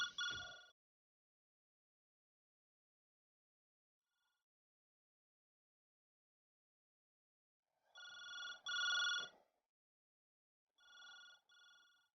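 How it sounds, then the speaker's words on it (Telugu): Quiet electronic phone rings in short bursts: one at the start, then a long silence, followed by two more rings close together near the end. "ఫోన్ రింగ్ అవుతుంది చూడు"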